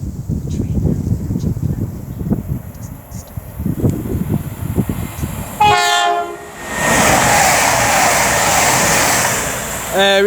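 CrossCountry class 220 diesel unit passing at Marston Green on the West Coast Main Line, a loud horn blast followed by a close rushing roar and wheel clatter, with speech before it arrives.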